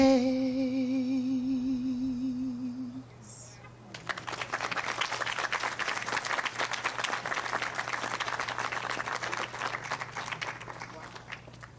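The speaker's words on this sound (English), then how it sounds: "Let's give her another round of applause." Audience at a memorial mural dedication at a library breaks into broad, sustained applause, a dense even clatter of many hands that follows a sung melody and holds steady to the end.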